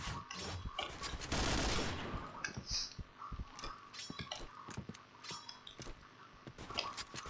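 Rapid bursts of AUG rifle fire in the shooter game Point Blank, a loud volley early followed by sharp repeated shots and short bursts at an irregular rhythm, with faint game effects between them.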